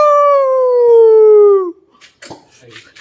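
A modified six-wheel truck's exhaust lets out one loud, sustained tonal howl that slides slowly downward in pitch for nearly two seconds, then cuts off into a few short, scattered knocks and rattles.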